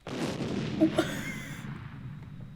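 An explosion in the Nancy Drew: Secret of the Old Clock video game hits as a broad, rumbling boom that decays slowly over a couple of seconds.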